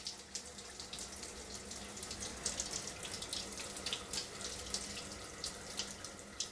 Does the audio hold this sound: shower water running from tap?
yes